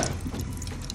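Cooking oil is poured into a pan, a steady close-up liquid stream that gurgles and splashes for about a second, with no talking.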